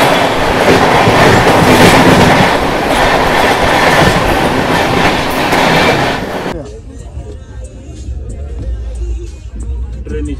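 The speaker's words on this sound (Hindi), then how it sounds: "स्पीड देखो 130 की रफ्तार से चल रही अपनी तमिलनाडु एक्सप्रेस" The Tamil Nadu Express runs at about 130 km/h, heard from inside a 3AC coach as a loud, dense roar with rapid wheel clatter that drops to a quieter rumble partway through, while someone talks over it.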